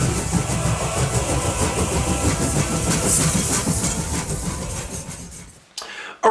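A train rumbles and clatters steadily at close range, wheels clicking over the rails as it rolls in and slows at a station, the sound breaking off abruptly near the end.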